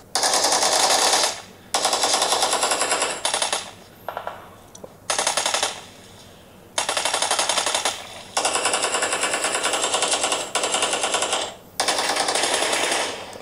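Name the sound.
gunfight gunfire from a mobile video game (PUBG Mobile)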